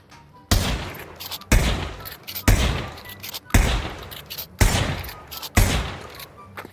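Trench gun shotgun in the VR shooter Pavlov fires six loud, close blasts about one second apart, each a sharp boom with a short tail.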